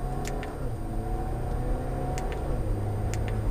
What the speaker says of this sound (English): I'm gonna give it a little bit of gas.